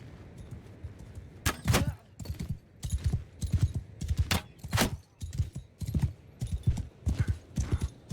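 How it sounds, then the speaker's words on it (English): Horse hooves galloping in Mount & Blade II Bannerlord, a rapid, loud, close clip-clop drumming in quick uneven bursts that continue throughout. "It's a nice fast horse."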